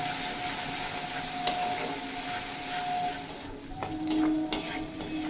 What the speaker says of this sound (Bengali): এড করে দেব পরিমাণ মতো হলুদের গুঁড়ো আর সামান্য কাশ্মীরি লঙ্কার গুঁড়ো দিয়ে ভেজে কষিয়ে নেব